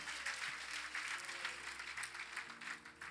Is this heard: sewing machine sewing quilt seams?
no